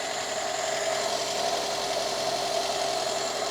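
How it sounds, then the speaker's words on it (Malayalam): A car engine idles steadily and evenly at close range, a constant mid-pitched running drone with a faint knocking texture and no voices, from an engine rebuilt without its PCV valve being checked. "ഇപ്പം വണ്ടി സ്റ്റാർട്ട് ചെയ്തിരിക്കുന്നു."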